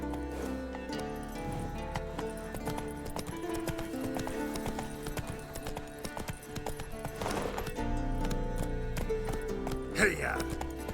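A horse trotting while ridden in The Witcher 3, with rhythmic clip-clop hoofbeats and a brief neigh near the end, all under game music and voices.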